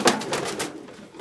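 Homing pigeons give a short, soft cooing burst close by, a few quick rolling notes that fade within about a second.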